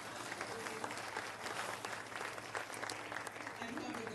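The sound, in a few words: applause for the panelists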